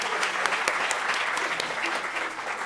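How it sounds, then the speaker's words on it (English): An audience at a literary conversation event breaks into steady, sustained applause, a dense crackle of many hands clapping at moderate volume that fills the room evenly. "can we just applaud Robbie Luckett?"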